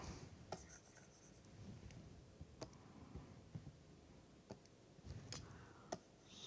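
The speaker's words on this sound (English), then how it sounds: "I will write it in the colored part." Pen or marker writing on a surface during a lecture, with faint scratching and a few sharp taps scattered over a quiet room background, no talking.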